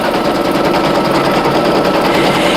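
A single needle embroidery machine runs a steady, rapid satin stitch around an appliqué heart patch, its dense mechanical chatter continuous and close without any talking.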